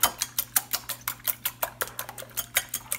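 Six eggs whisked in a bowl, a fast, even train of close metallic taps and clicks against the bowl, about five strokes per second, with no talking.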